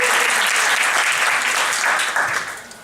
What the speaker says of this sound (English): Big round of applause, Paul